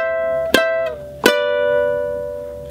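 A ukulele sounds the G introduction note for a song, two bright plucked strums close together, each ringing out and fading slowly, with no talking.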